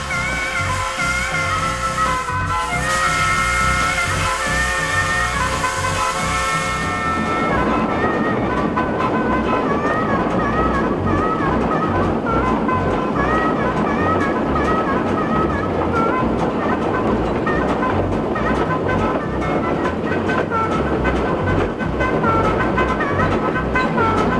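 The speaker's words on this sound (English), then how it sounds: "When Schaefer passed away, the engine was donated to the Rainier Scenic, where it underwent a restoration that lasted for a year and a half." A Porter steam locomotive runs on the Rainier Scenic railroad with a continuous loud rumble and rhythmic chuffing, opening with a sustained whistle-like tone for several seconds before the heavy running noise carries on alone.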